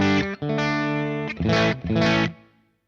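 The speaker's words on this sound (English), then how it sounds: "The bridge pickup sounds like this." Heavily distorted electric guitar chords from the bridge pickup of a swamp ash, maple-neck guitar through an Apollo Approved Sawdust distortion pedal ring out in a short riff, a held chord followed by two stabbing hits, then fading out.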